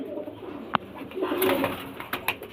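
A golden pigeon coos nearby in a short rolling call, with a sharp click near the start and other faint loft noises around it.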